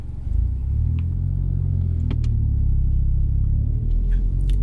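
A car engine held at raised revs during a hill start in a town centre, a steady low rumbling drone heard from inside the vehicle with a few faint clicks, no talk.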